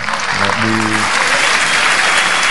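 Applause from a room of Democrats and Republicans at the White House: dense, steady clapping that fills the whole moment, with a voice briefly heard over it near the start.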